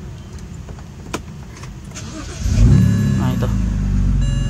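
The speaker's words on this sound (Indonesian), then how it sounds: "Dimasukin ke slot, kita sambil injek rem, kita pencet tombol start stop buttonnya." A 2006 prefacelift BMW 325i E90 engine starting by push-button with the brake pressed, a brief crank then a loud, close idle that settles to a steady hum, with a few clicks and a short spoken remark before it.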